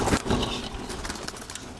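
Pigeons with their chicks cooing softly at close range in a short, continuous murmur.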